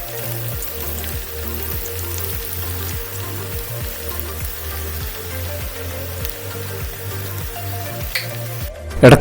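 Oil sizzles and crackles steadily as macaroni broast deep-fries in a pan, with a rhythmic low thumping running underneath and a brief clatter at the end.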